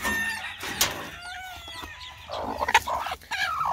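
A hen clucks in short, bright calls close by, with a crow-like call rising midway and a sharper burst of clucks near the end, over a steady low background hum.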